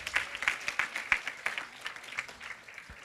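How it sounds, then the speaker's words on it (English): A symposium audience of college students gives itself a round of applause, a moderate, fairly sparse clapping that rises in uneven bursts and then gradually thins out. "Give yourself a round of applause"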